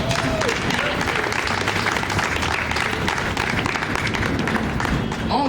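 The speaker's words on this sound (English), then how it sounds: "You can applaud now." A political gathering breaks into loud, continuous applause after the Mount Vernon Democratic chair endorses Richard Thomas for mayor, a dense crowd of clapping hands holding steady for several seconds.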